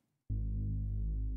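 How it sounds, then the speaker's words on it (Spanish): A low, sustained synth bass note kicks in abruptly and holds steady with a subtle rhythmic wobble, clean and undistorted, alone without any talking. "es este, es un Reese Bass"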